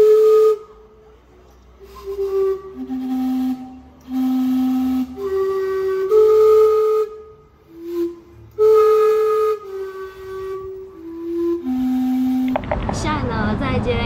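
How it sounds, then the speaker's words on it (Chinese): Gastown's steam clock in Vancouver whistles a slow melody of clear sustained steam-whistle notes, then ends in a loud, rushing burst of venting steam hiss. "这个就是蒸汽时钟"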